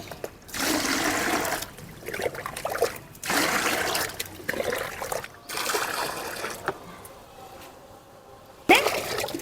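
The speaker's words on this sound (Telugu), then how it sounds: "నేను పది మగ్గుల నీళ్ళు పోస్తానండి" Water pours from a mug in several separate bursts with short pauses between, each gush loud and close, ending in a sharp final splash.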